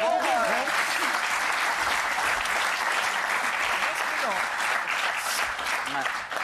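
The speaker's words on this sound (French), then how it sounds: "Ils applaudissent en plus." An audience applauds continuously with dense, loud clapping that fills the whole stretch, with a voice briefly audible at the start.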